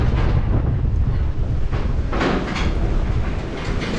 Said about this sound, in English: it is really windy here